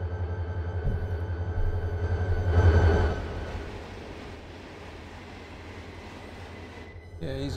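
A freight train passes in the Run8 rail simulator on the Sanford Subdivision, a steady low rumble with rising wheel and car noise that peaks near the middle, then settles into a quieter, even roll before a brief change near the end.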